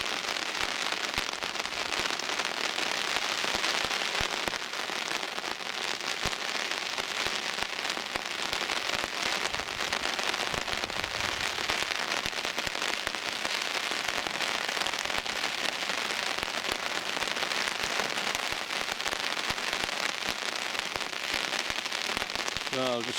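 Rain falls steadily beside a swollen river during barbel fishing, a constant close hiss with light crackling drops that holds at an even level throughout and carries no voices.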